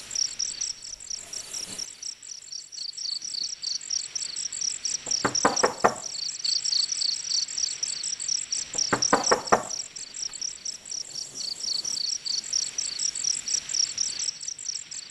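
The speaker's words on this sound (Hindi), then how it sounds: "तुम दरवाजा खटखटाओ," Knocking on a door at night, in two quick bursts of several raps each, a few seconds apart, over a steady chorus of chirping crickets.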